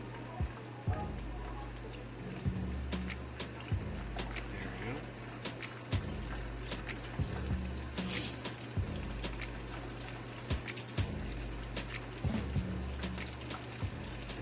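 Mustard-coated squirrel pieces fry in a pan and are flipped, giving a continuous close crackling sizzle with low pan clunks and scrapes, while a voice talks softly at times.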